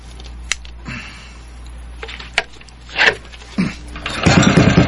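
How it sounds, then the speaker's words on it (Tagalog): A boat's troublesome engine is cranked repeatedly in short bursts that sputter and die, then catches and runs on with a rough, rattling idle at close range. "Nisiga makina ini pambot."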